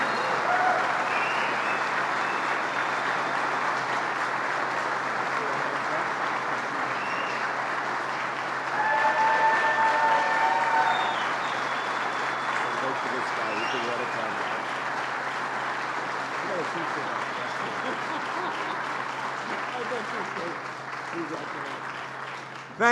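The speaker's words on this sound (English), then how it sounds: "Let's give him a big round of applause" An audience gives Senator Charles Schumer a long round of applause at a jobs announcement with Governor Cuomo. The dense clapping runs for over twenty seconds, swelling briefly midway, with voices mixed in under it.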